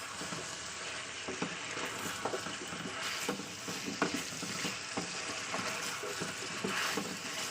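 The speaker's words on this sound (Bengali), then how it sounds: "চলুন পেঁয়াজটা দিয়ে একটু কষিয়ে নিই তেলের উপরে।" Onion frying in oil for chicken karahi, a continuous sizzle broken by frequent scraping and clicking stirs against the pan, steady and fairly close, with no speech.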